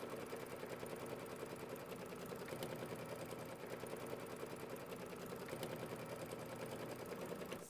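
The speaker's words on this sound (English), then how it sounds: "You may want to just hold on to it a little bit while it starts stitching" A sewing machine stitches steadily, a continuous close whirring hum with an even rapid needle rhythm as it sews flexi foam down onto a mini quilt.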